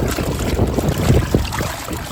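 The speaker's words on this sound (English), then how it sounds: "The wind just started to pick up" Outdoor wind buffets the microphone in a steady, rough, close rumble with small gusty swells and no voices.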